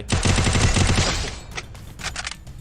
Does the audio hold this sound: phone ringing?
no